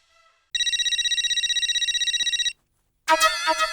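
A mobile phone rings with a loud, rapid electronic trill that pulses steadily for about two seconds, stops, and then a brighter ringtone phrase starts up, clear and close against silence.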